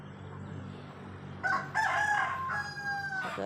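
Turkeys in a backyard let out loud, warbling calls that begin partway through and overlap in two or three bursts, over a low steady rumble of background noise.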